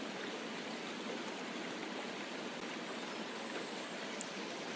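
Steady, full-bodied rush of a waterfall pouring onto rocks, continuous broadband roar with no pauses, moderately near and even in level throughout.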